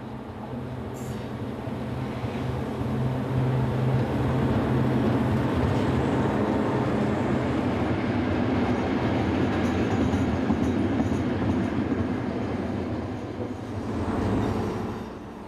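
Diesel locomotive 22207 leading a pair of class 66 diesels at night, a loud rumbling roar that swells as the train passes close and then fades away.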